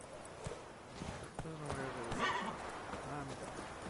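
Roach, a horse in The Witcher 3, clip-clops along with steady hooves and gives a whinny partway through, set against game ambience while someone talks over it.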